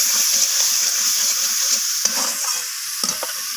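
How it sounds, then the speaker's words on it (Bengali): Fried potatoes stir-fried with masala for a vegetarian jackfruit curry, giving a steady close sizzle with rhythmic scraping strokes of a spatula against the pan and a few sharper knocks near the end. "তো আলুগুলোকে মশলার সাথে কষিয়ে নিচ্ছি।"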